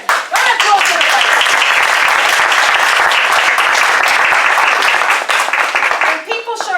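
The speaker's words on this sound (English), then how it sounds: "Round of applause, everybody." Audience applause at a Toastmasters meeting, a dense, steady round of clapping from a room full of people that holds strong for several seconds, then thins and tapers near the end.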